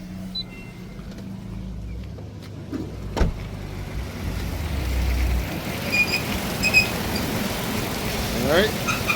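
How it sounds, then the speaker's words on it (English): A Toyota pickup truck engine idles steadily with a low, continuous rumble, plus a few faint mechanical clicks and a brief whine near the end. "you can hear that same strong Toyota engine"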